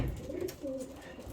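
Pigeons in a loft, including grizzle birds, coo softly with low, throaty, rolling calls, a couple of overlapping coos close by over a faint background.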